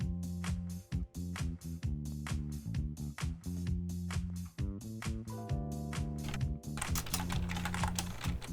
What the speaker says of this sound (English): It's supposed to be well equipped in canceling out my keyboard sounds,